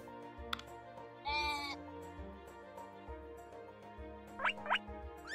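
Sheep in the game Equilinox give several short bleats over a soft, layered ambient game soundtrack, the calls popping up briefly at a moderate distance.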